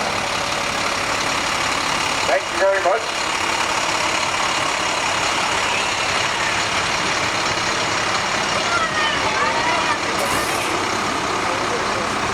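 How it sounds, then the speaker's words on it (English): A fire department truck idles at a high school homecoming parade, a steady loud engine rumble throughout with outdoor crowd noise, while someone speaks briefly over it. "Charlottetown Fire Department truck"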